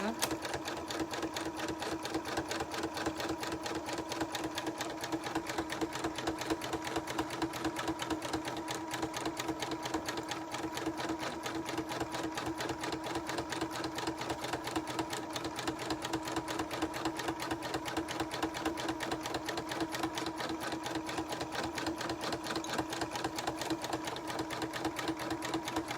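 Sustained free-motion stitching on a home sewing machine working a fabric Christmas tree hanging, a continuous fast mechanical needle chatter with a steady motor hum, close and unbroken throughout.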